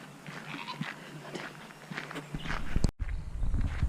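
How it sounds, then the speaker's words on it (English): Goats moving about nearby, with shuffling hoof steps and soft scattered bleats and rustling, a short gap near the end before the movement resumes. "The goats are out."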